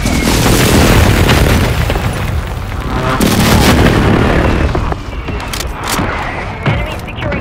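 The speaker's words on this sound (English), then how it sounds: "Friendly precision airstrike inbound." Precision airstrike in Call of Duty, a heavy barrage of booming explosions rolling one after another, loud and dense, with crackling debris and blasts continuing throughout.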